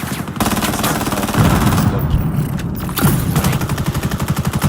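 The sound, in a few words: gunfire in a video game tournament match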